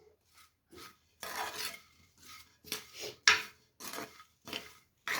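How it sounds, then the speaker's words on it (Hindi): Salt being mixed into grated carrots for gajar ka achar, homemade pickle, in a bowl with a spoon, a series of short scraping, rasping strokes with brief pauses between them, fairly close and soft. "तो ये नमक हमने इसमें मिक्स कर लिया।"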